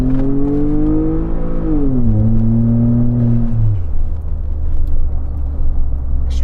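A turbocharged EcoBoost pickup truck accelerates nearby, its engine whine climbing in pitch, then dropping through gear shifts before settling into a steady low drone.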